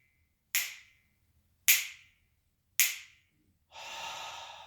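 A slow, deep abdominal inhale during a breathing exercise, about a second of soft, airy breath after three sharp, separate clicks in an otherwise quiet room.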